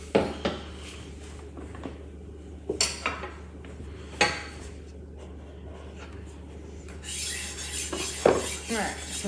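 A Takamura knife with R2/SG2 steel is drawn across the HORL 2 rolling sharpener in scraping, metallic strokes. Separate rasps come at intervals, then give way to a steadier grinding toward the end.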